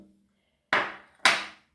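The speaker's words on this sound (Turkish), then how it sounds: "Bir demet maydanozumu yıkadım. İnce ince doğradım." A knife chops finely through a bunch of washed parsley on a board, landing two crisp, close thuds about half a second apart in otherwise quiet surroundings.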